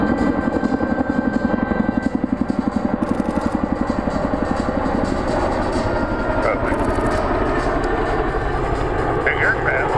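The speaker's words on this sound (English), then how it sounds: "The aircraft, built by Boeing in 1956, has a top speed of over 200 miles per hour." A Boeing CH-47 Chinook twin-rotor helicopter flies at an airshow, its rapid rhythmic rotor thumping loud and steady over a deep engine rumble, while an announcer talks over it throughout.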